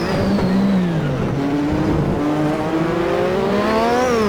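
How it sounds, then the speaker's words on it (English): A Lotus 98T turbocharged Formula One car in Assetto Corsa, lapping the Adelaide street circuit, revs loud and close, its pitch climbing and dipping through gear changes as the turbo spools, with no talk. "Listen to this thing spool, listen to that turbo, it just sounds so awesome"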